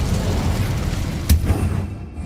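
An Incendio fire spell cast in Hogwarts Legacy bursts out as a short, loud whoosh-and-boom over a low rumbling game background, then tails off into quiet.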